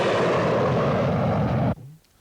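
A TVR Chimera sports car roars past loud and close with a dense, broadband exhaust blare that holds steady, then cuts off abruptly into near quiet.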